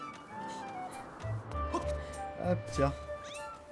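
A cat meows several times in The Legend of Zelda: Skyward Sword HD, with short, close mews over gentle game music, and a person briefly speaks.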